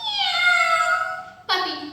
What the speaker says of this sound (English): A cat, meow,